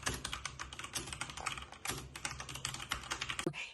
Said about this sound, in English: the sound of the keys is fun to listen to